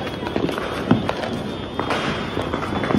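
Diwali fireworks and firecrackers pop and crackle at a distance outdoors, with a few sharper bangs standing out over a steady background of festive noise.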